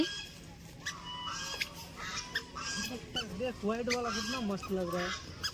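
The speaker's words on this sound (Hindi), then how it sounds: "देखो ये सब हंस है बतख थोड़ी" Several geese honk repeatedly in a loud, overlapping chorus, with people talking nearby.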